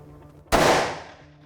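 A single sharp, loud gunshot from a large-calibre rifle fired at a shooting range cracks out mid-clip, then its roar decays over about a second, with no talk around it.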